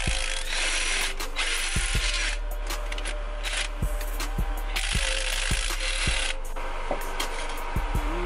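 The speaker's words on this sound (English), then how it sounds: "I'm finally under here, so I got 3 15mm bolts." A ratchet works loose three 15mm bolts underneath a car, with repeated clicking and metallic clanks in a steady rhythm over a loud, constant mechanical background hum, close by and without talking.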